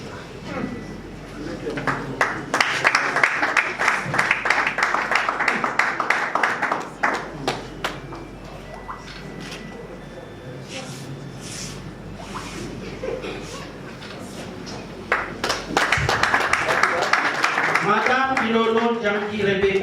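Scattered clapping from an audience at a political party gathering as members are introduced, uneven and moderate in level, with voices and some chuckling in the room and a stronger burst of clapping near the end.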